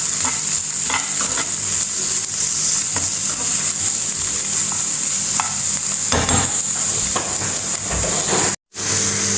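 Mushrooms frying with onions and green chillies in a pan for a Kerala-style mushroom thoran, a continuous close sizzle and hiss with occasional scraping stirs, briefly cut off near the end.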